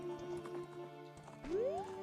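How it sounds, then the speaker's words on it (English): The horse Epona in a Zelda video game whinnies and clip-clops as she runs off, a steady game-music bed underneath and a rising tone sweeping up near the end. "And Epona runs away"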